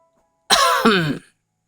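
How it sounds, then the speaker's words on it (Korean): An older man, a father-in-law, gives one loud, gruff throat clearing in two quick rasping pushes, close up and alone in silence. "우레와 같은 헛기침을 몇 번이고 뱉으시며 불편한 심기를 숨기지 않으셨습니다."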